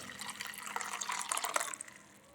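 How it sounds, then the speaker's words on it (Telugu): Water is poured over coriander seeds, fennel and leaves, giving a steady splashing, trickling wash that runs for about two seconds before tapering off, with no talking. "వీటిలో తగు మాత్రం నీళ్లు పోసుకోవాలి"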